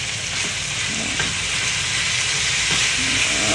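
Bell pepper stir fry with oyster sauce frying in a hot pan, a steady close sizzle with faint stirring scrapes running continuously and alone, with no talk.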